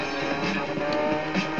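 A car engine in the Redline Rumble Revolution racing game revs hard and climbs through the gears, loud and close, with fluctuating pitch and a brief squeal of tires in a crowded race.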